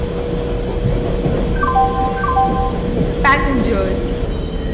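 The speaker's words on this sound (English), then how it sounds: "Express is arriving at platform number" At a railway platform, an express train rumbles loud and steady while a chime and announcement tones ring out over it, with a voice speaking partway through.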